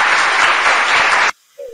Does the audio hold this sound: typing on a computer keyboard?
no